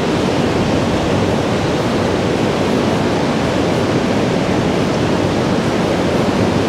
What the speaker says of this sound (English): No, this is the main river.